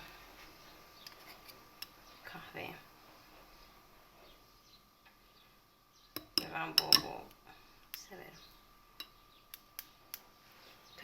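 Spoon stirring a cocoa drink in a cup, soft clinks and light scraping in short bursts, with a louder rattling flurry midway and scattered single taps, close and fairly quiet.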